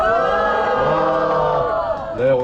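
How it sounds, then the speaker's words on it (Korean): A crowd at an outdoor protest rally in Seodaemun cheers and shouts together in a loud, sustained roar of many voices, which tapers off and then swells briefly at the end. "다시 한번 함성"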